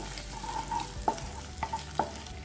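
Ginger and green chili cook in hot butter for paneer makhni, giving a steady soft sizzle broken by a few light taps of a spoon against the pan.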